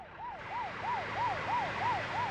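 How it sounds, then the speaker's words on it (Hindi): An ambulance siren wails in quick, even rising-and-falling sweeps, about seven cycles in a row, moderately loud over a low traffic hum. Nobody speaks. "बॉस, एम्बुलेंस है, मुझे लगा पुलिस है।"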